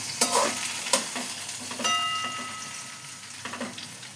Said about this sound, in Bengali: এবার আলুর সাথে এটাকে ভাজবো, একটু লাল লাল করে ঝিঙেটাকেও ভেজে নেব।